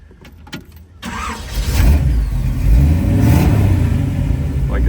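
A 1932 Ford Roadster hi-boy hot rod with a 350 V8 catches right away after a brief crank, then settles into a loud, deep, rumbling idle close by, with no one speaking.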